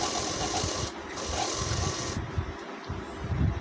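A sewing machine stitches a trouser pocket with a soft rapid needle patter and motor hum, brief bursts that stop and restart, close and fairly quiet.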